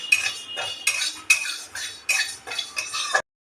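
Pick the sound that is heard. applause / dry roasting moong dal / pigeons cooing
dry roasting moong dal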